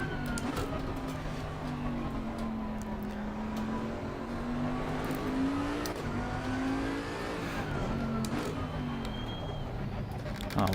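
A Porsche race car engine in Assetto Corsa Competizione drones steadily at the Nürburgring, its pitch rising and falling with throttle and gear changes, held close and loud for the whole stretch with another car's tone briefly joining.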